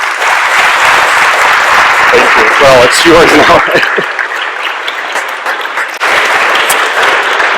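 At a pharmaceutical AI conference, hearty audience applause fills the room while someone speaks briefly over it midway. The clapping dips and then swells back up near the end.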